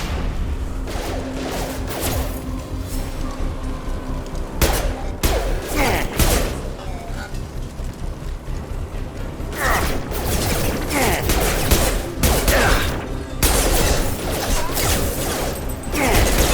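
Security mechs open fire during a Mass Effect firefight, bursts of rapid gunfire and heavy impact thuds hammering close and loud, with sharp clusters of shots between sustained mechanical rumble.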